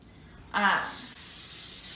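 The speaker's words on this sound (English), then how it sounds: "So I'm going to start by spraying my pie plate." Cooking spray hisses from a can onto a pie plate in one short, close, loud burst that begins abruptly, followed by a steady airy hiss.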